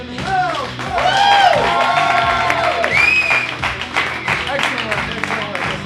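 Loud audience applause and cheering at a live showdown competition, with whoops and whistles rising over dense clapping and crowd voices throughout.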